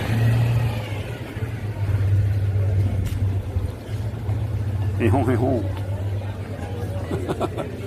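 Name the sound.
orange Citroën 2CV car driving down a French street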